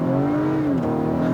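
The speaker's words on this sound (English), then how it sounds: "let's floor it from a stop here and see how it feels." A 2019 Acura RDX pulls away hard from a standstill, its engine note climbing steadily and loud for just over a second with no talk over it.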